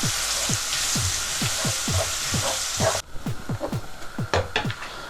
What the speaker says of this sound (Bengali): তেলটা গরম হয়ে গেছে, এখন আমি রসুন আগে দিলাম।